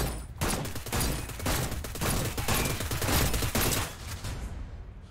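Gunfire in the virtual reality game Seeking Dawn comes as a loud, near, continuous fusillade of rapid shots. The bursts go on steadily for several seconds with no talk.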